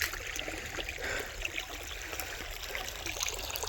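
Irrigation water flows through a village plot of areca plants on a cold morning, a faint, steady trickling and gurgling stream heard close by without any talking.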